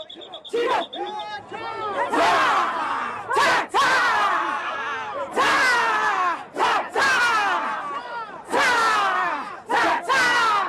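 A large crowd of striking workers outside a harbour shouts and chants in loud, repeated bursts with short pauses between, voices massed together close by.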